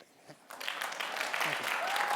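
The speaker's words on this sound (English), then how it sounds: "give me a standing ovation, and just applaud like it was brilliant" Audience at a keynote rising into a standing ovation, applause swelling from scattered claps into a dense, sustained wash of clapping.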